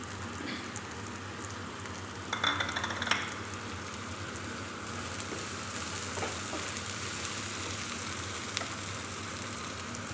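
Onions and ginger paste fry in hot oil with a steady, close hiss, and a brief burst of stirring scrapes breaks through the sizzle.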